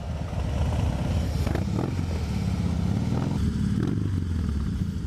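A group of nine Harley-Davidson motorcycles gathered for a ride, engines idling and rumbling loudly together in a steady, dense drone with occasional clatter, close by and alone.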